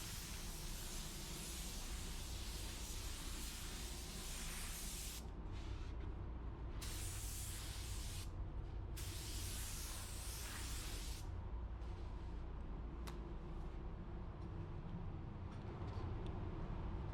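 A steady, dense hiss of a paint spray gun running at 13 psi with a 1.2 fluid tip, basecoating a car's rocker panel, with brief pauses where the spray cuts off and restarts.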